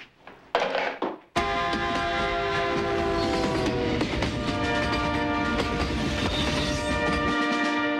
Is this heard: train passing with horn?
yes